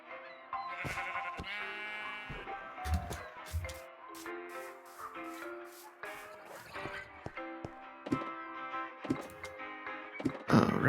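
Sheep in Minecraft give repeated bleats under blocky game sound effects, placement thunks and light background music, the bleats spaced irregularly and moderately loud.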